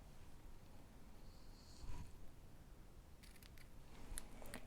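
Scissors snip faintly at the ends of a tied ribbon knot, with a few quiet cuts spread across a hushed stretch and a small cluster of snips near the end.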